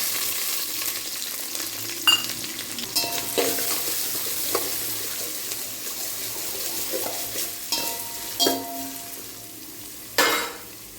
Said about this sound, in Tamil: வெந்தயம் கலர் சேஞ்ச் ஆனதுக்கப்புறமா கருவேப்பிலை போட்டுக்கலாம் அடுத்து வெங்காயமும் பச்சை மிளகாவும் போட்டுக்கலாம்